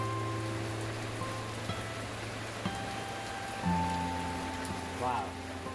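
Rain falling steadily in a rural Vietnamese home setting, a soft constant patter in the background with some faint tonal hums and small knocks over it.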